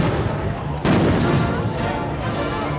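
A concussion grenade thrown at protesters bursts with a loud, close boom that rises from an already dense wash of crowd noise and rumble, then the noise stays heavy.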